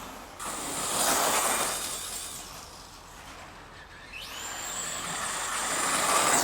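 A Schumacher Fran-ken Cougar RC model car runs on a bench, its small electric motor whining and hissing in two rising and falling surges, with a brief quieter lull between them and no speech.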